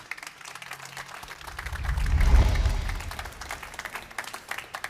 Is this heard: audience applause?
yes